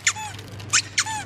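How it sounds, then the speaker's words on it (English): Squeaky dog tennis balls squeezed three times, each a loud, sharp rubbery squeak with a sliding tail, close up over a low hum. "squeak the balls, and let's see if anybody's at home's dog jumps up when they squeak them"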